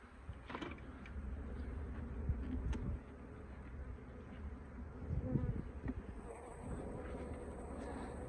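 Honey bees drone in an opened hive, a steady low buzzing close by with a few louder passes and light handling bumps, no speech.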